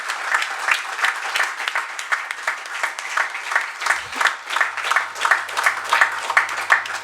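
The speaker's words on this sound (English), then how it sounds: "please give a huge round of applause for the book release" An audience at a book release event in Mumbai applauds, dense continuous clapping with a rippling rhythm that holds steady for several seconds, fairly close and loud, without speech.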